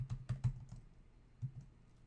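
Typing on a computer keyboard while writing an extended network access list, a close, quiet burst of several rapid keystrokes followed by a pause and two more taps.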